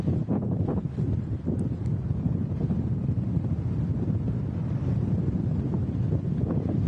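Strong storm wind roars steadily across the microphone at Manchester Airport as Storm Agnes approaches, a loud continuous buffeting rumble with gusts and no talking.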